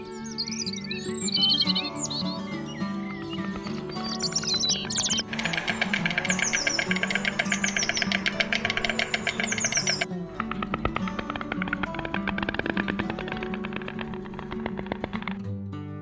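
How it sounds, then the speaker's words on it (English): White stork cry heard as a busy, layered stretch of chirps and clattering, rapid tapping sounds that persist steadily for about sixteen seconds with no voices. "Listen to the stork's cry."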